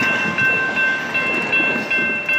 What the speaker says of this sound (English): Yeah, that's a freight train for sure.